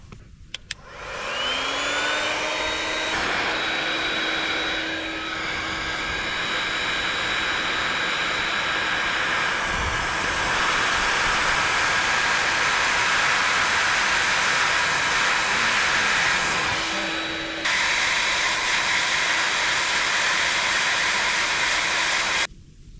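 A heat gun blows steadily for about twenty seconds while shrinking heat-shrink tubing over a soldered wire connection during an electric trailer jack install. A loud, broad airy roar with a rising whine starts the run, then cuts out near the end.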